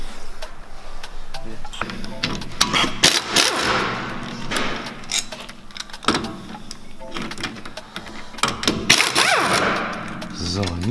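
Wrench and metal knocks from removing wheel hub bolts during a drum-to-disc brake conversion on a vehicle axle, a busy series of clanks, thuds and ratchet bursts at close range, loud and irregular throughout.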